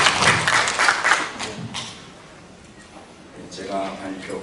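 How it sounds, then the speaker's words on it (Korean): Audience applause welcoming a speaker at a Buddhist studies academic conference, a burst of clapping at the start that fades into a quiet stretch before a voice begins speaking. "큰 박수로 맞이해주시면 감사합니다."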